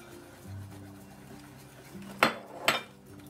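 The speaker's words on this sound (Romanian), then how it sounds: "amestecăm și praful de copt cu făina. Și incorporăm aici toată făina." A spoon knocks twice against a mixing bowl while baking powder and flour are stirred into batter for spoon-dropped doughnuts. The two sharp, close clinks come about half a second apart over a quiet kitchen background.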